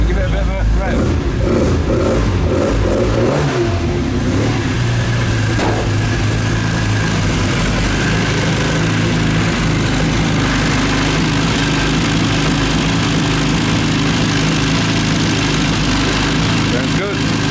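A classic Mini 1.3 track car engine with replaced roller rockers running close by, a loud throaty drone that rises as it is revved, with speech heard over the engine.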